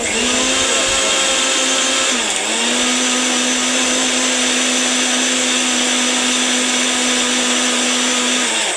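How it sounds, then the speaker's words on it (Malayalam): A mixer grinder grinds grated coconut, loud and continuous, a steady high whine with a brief dip in pitch early on, then grinding on. "അതിന് നമുക്ക് അത് തിരുമ്മി നമുക്ക് മിക്സിയിലടിച്ച് അതിൻ്റെ പാല് നമുക്ക് എടുക്കേണ്ടതാണ്"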